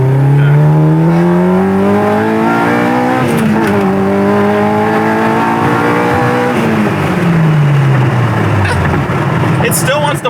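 A go kart with a Honda K20 engine accelerating in second gear: loud, close engine drone rising steadily in pitch, easing off briefly and climbing again, then dropping as the throttle lifts; someone speaks over it.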